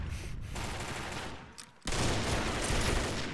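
Rapid automatic gunfire from the online shooter Combat Arms, dense continuous bursts that break off briefly and resume loudly, with no talk over it.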